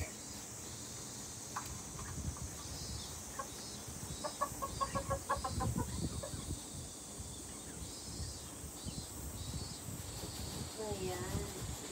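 Chickens on a farm cluck and squawk noisily at close range in a busy flock, with bursts of rapid calls rising and falling, while a person speaks at times.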